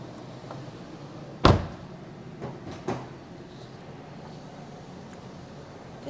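The rear door of a 2016 LF Sonata 2.0 is opened and shut, giving one sharp, close thud followed by a couple of softer clunks over quiet background.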